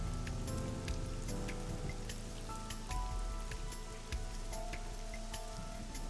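Pouring rain in a video game scene, a dense steady patter of drops on surfaces under a soft tonal background score, continuous and even from start to finish with no voices.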